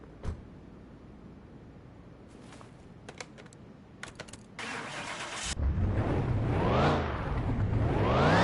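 In the Car Mechanic Simulator 2021 video game, keyboard clicks tap sporadically before a car engine cranks and starts, settling into a loud, steady idle that rises and falls in revs, close with no talking.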